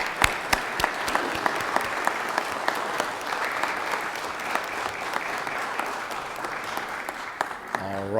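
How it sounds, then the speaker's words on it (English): Applause in a legislative chamber and its gallery, a sustained wash of many hands clapping with a few sharp louder claps, and voices murmuring near the end. "If you'll give them a round of applause up there and here."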